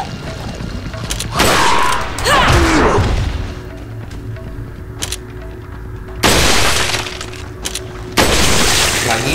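Several loud, sharp gunshot blasts from the video game Resident Evil 4 Separate Ways go off at irregular intervals, with quieter game noise between them.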